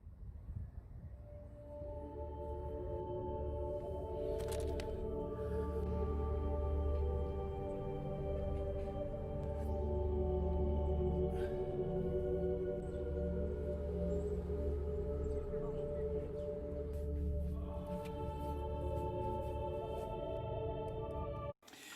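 Ambient stock music track with layered pads with sustained tones and soft chime-like accents, steady and moderately loud throughout before cutting off abruptly at the end.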